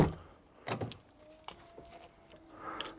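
A car key goes into a door lock and turns, giving a few quiet metallic clicks and jangles spread over a few seconds against a soft background hiss.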